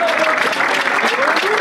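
Applause during a football interview with an SV Spielberg player about the match against Karlsruher SC II, steady loud clapping from a crowd throughout the brief moment with a voice over it.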